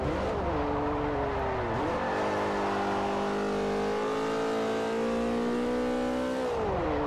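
Race car engine in Forza Motorsport 4 revving hard toward and past the redline, a loud sustained whine that dips briefly at a shift then climbs again, with no talk.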